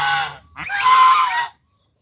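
Geese kept as farm poultry honk loudly and close by: one short honk, a brief pause, then a longer, harsh, drawn-out honk that cuts off abruptly, followed by silence.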